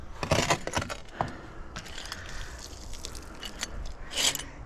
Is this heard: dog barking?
no